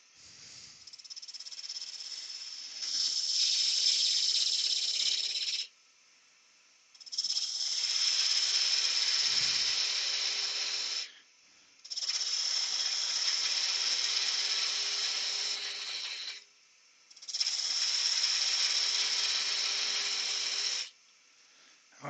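A wood lathe turns the outside of a goblet at just under 1000 RPM while a gouge cuts the spinning wood, giving four sustained hissing, rattling cutting passes of several seconds each, separated by short quieter gaps.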